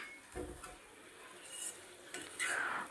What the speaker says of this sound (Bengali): দিয়ে এটাকে আমি একদম হাই হিটে মিলাতে থাকবো আর এটাকে ভাজতে থাকবো, একদম শুকনো করব।